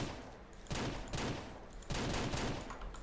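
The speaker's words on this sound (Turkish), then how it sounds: "Yine vurdum, yine vurdum." Rifle gunfire in the game Ranch Simulator, three distinct sharp shots spaced roughly evenly over a few seconds, each with a brief decaying echo, no talking.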